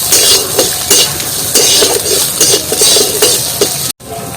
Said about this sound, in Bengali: এগুলো কুচি কুচি করে কেটে নিলেই ভালো, ছোটো ছোটো করে এরকম করে কাটা